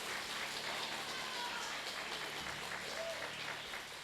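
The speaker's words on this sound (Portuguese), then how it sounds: "Aplauda ao Senhor." Church congregation applauding during a sermon, a steady wash of clapping from many people, fairly faint and continuous throughout.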